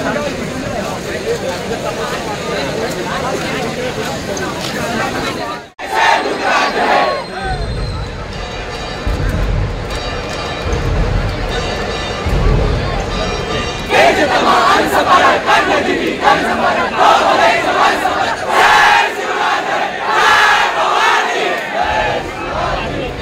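Large rain-soaked crowd at the Chinchpokali Cha Chintamani Ganpati arrival procession in Mumbai, a loud continuous roar of voices, shouts and chanting with rain and a nearby voice speaking over it.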